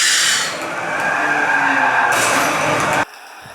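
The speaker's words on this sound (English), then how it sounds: "it does a blow off valve sound" Simulated turbo blow-off valve on a racing simulator cockpit running Forza 7 with a twin-turbo Porsche: a loud, close, sustained hissing whoosh lasting about three seconds, then cutting off abruptly.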